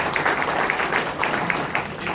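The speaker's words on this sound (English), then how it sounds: "so keep clapping, okay?" An audience at a mayor's business announcement applauding in a steady, moderate patter of clapping that runs throughout.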